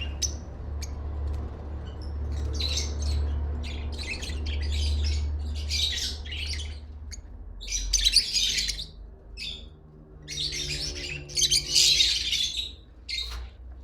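A breeder pair of green Fischer's lovebirds gives bursts of sharp, high chirps and squawks, sparse at first and then more frequent and clustered, heard alone over a low background hum.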